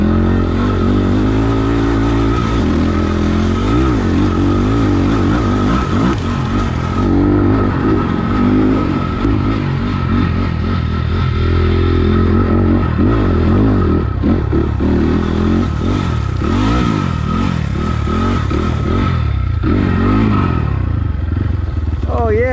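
A 2020 SSR SR300 Chinese dirt bike being ridden, its engine droning loudly and steadily with repeated revs and rising and falling pitch as it accelerates, close up throughout.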